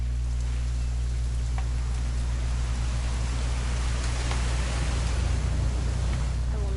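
Steady rain falls in What Remains of Edith Finch, a dense continuous hiss with a low droning rumble beneath, unbroken throughout.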